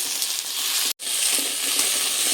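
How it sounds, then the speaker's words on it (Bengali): Taro pieces sizzling and frying in spice paste in a pan, a steady bright crackle with a brief silent break, no talk. "কচুটা দিয়ে একটু নেড়ে ছেড়ে নেবো মশলার সাথে"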